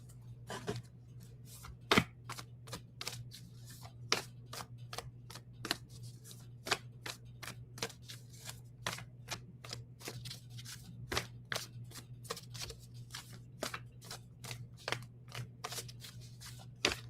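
A deck of cards shuffled repeatedly, with a long run of quick crisp riffles and snaps at an even pace over a steady low hum, fairly close and quiet, with no talking.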